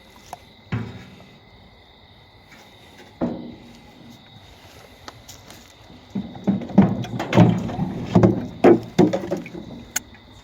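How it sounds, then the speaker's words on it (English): A 1956 Massey Ferguson F40 tractor is shaken by hand, giving isolated creaking thuds that turn into a cluster of rattling, knocking metal and wood clunks, with a faint insect-like hum in the background. "Let me shake this tractor a little bit, get some bubbles going down it."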